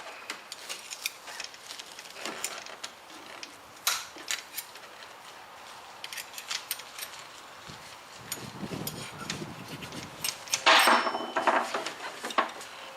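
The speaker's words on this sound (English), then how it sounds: "Take the screwdriver, pull the plug out" A screwdriver levers a plug out of a water treatment system fitting, giving scattered light clicks and taps of metal and plastic, with a brief scraping rattle near the end and no talk.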